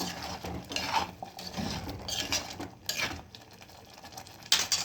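A spoon stirs egg curry seasoned with garam masala in a pan, giving quiet, irregular scrapes and light metallic clinks close by.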